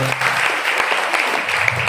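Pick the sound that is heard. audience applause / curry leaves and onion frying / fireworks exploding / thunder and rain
audience applause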